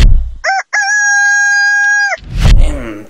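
A rooster crows once, loud and close, in a long clear cock-a-doodle-doo after a short opening call, then a brief burst of noise follows.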